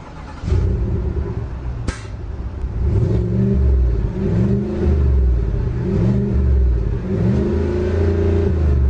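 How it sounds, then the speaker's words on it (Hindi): A Cadillac's 6.2-litre, 420-horsepower V8 revs repeatedly through quad exhaust pipes, a deep, loud rumble rising and falling in steady waves, with a sharp click early on. "Exhaust pipes, take a listen."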